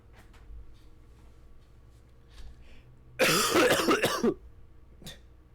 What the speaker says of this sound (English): a nice relaxing cough before the meditation really gets everyone in the mood